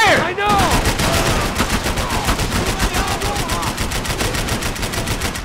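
Rapid automatic gunfire from the video game Max Payne 3 fires in a fast, sustained burst of sharp shots, loud and close, with ringing echoes and bullet ricochet whines early on.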